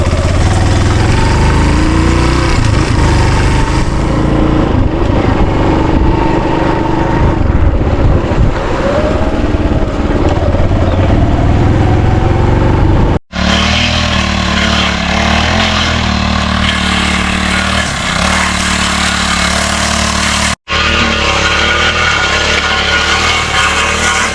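A grass cutter engine runs loud and close on a farm, a steady droning roar that continues without a break apart from two brief cuts in the sound.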